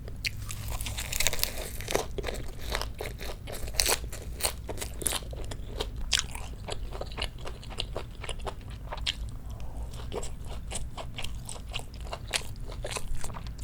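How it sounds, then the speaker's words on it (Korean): Close-up chewing of pork bulgogi wrapped in lettuce and perilla leaves, with loud, wet crunches and bites repeating steadily throughout and no talking. "상추랑 깻잎이랑 제가 쌈 싸먹는 거 진짜 좋아해서 너무 맛있어요"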